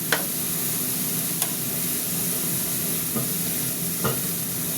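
Okra fries in hot oil with a steady hiss, a few light clicks of the spoon stirring it in the pan.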